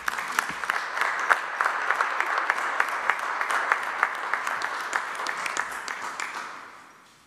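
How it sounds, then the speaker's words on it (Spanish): A large audience at an official event honoring authorities, including a United Nations visitor, breaks into loud, sustained applause of dense clapping that holds steady for several seconds before fading out. "Despidamos a nuestras autoridades con un fuerte aplauso."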